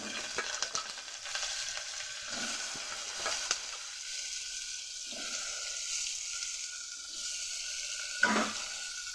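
Cut potatoes and papaya hitting hot oil with fenugreek seeds in a pan, a steady close sizzle running throughout with a few scraping stirs and clinks.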